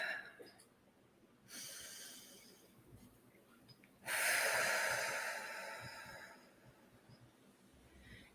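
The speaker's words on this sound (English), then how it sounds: "Let's just take some deep breaths" Slow deep breathing during a guided relaxation exercise, two long breathy exhales close to the microphone, the second louder and lasting several seconds, with quiet pauses between.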